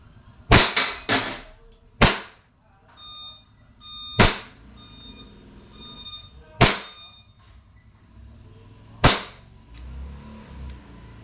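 A WE 1911 MEU Silver gas blowback airsoft pistol fires six sharp, snappy cracks at uneven intervals, with a brief metallic ringing between some shots in a quiet setting.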